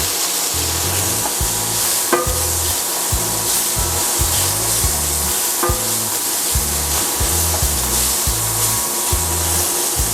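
Garlic and onion sizzle in a little oil for japchae, a loud, steady frying hiss with occasional stirring scrapes and a background rhythmic thump, no talk.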